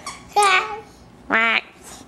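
A voice makes two short quacking vocal sounds, separated by a pause, imitating a duck up close.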